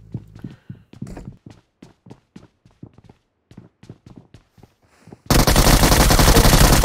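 Gunfire in PUBG Mobile: a string of sharp single shots and short bursts with uneven pauses, followed by a sudden loud, continuous roar of noise near the end.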